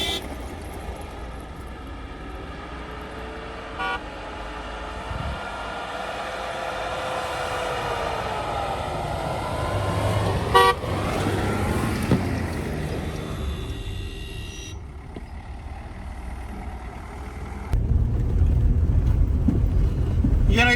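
A vehicle engine labours on a slippery snow-covered mountain road to the lake, a steady low rumble with rising strain, mechanical clunks and wind buffeting the microphone, growing louder near the end.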